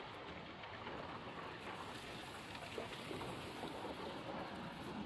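A wooden boat is rowed through monsoon flood water near Tangail, Bangladesh, heard as steady, close washing water with wind rumble and no distinct oar strokes.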